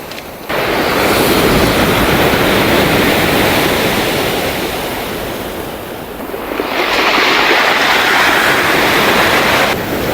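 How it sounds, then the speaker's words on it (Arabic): Strong sea waves surge and crash onto the beach at Batumi, a loud continuous roar of surf that swells, eases briefly in the middle, then builds again, with no voices. "دخلنا على الشاطئ، الامواج جامده جدا"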